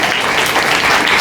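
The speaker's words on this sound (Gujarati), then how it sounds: "એમના માટે પણ એકવાર તાળીઓથી વધારી લઈએ" A brief, loud wash of dense clapping from the audience at a village prize-distribution and donor-thanks ceremony, steady throughout without talk.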